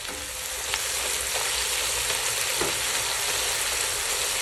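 Tomatoes cooking and being mashed in a pan for a black bean sauce, giving a steady, dense sizzle and frying crackle with occasional scraping knocks, close and unbroken throughout.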